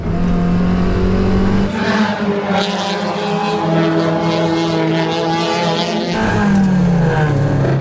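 Race car engines roar loudly and continuously during a race lap, with a close, high-revving whine that shifts pitch as the cars accelerate and brake.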